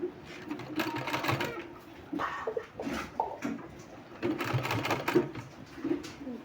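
A sewing machine stitches a folded strip for palazzo pants in short, close bursts with pauses between, while birds coo faintly in the background.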